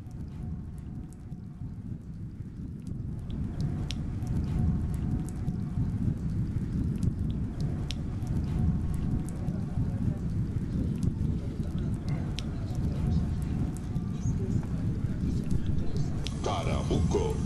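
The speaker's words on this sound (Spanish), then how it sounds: "La lluvia propicia el descanso." Steady, dense rain falls in Bolivia throughout, with a low rumbling undertone like distant thunder and a constant wash of patter.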